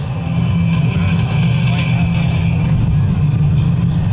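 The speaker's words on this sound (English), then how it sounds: "That's a Pratt & Whitney Canada PT6 turboprop." T-6C Texan II turboprop with a Pratt & Whitney Canada PT6 engine flying at an airshow, a loud, continuous droning roar that stays steady throughout, with no talk over it.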